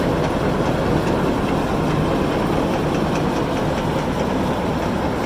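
A Carter Day 510 grain cleaning machine with a shaker unit runs continuously, giving a loud, steady mechanical rumble and rattle close by with no pauses.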